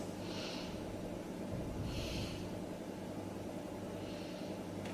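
Slow, soft breaths taken while holding a yoga pose, three gentle airy swells spaced a couple of seconds apart over a steady low hiss.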